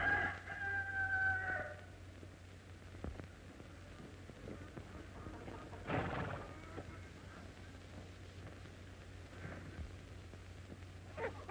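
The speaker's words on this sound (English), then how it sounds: "Help me find that rooster." A rooster crows faintly in the distance at the start, followed by quiet background rustling and a brief muffled bump.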